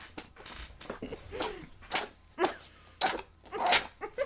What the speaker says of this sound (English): The utter chaos of the cat sneezing all over the place.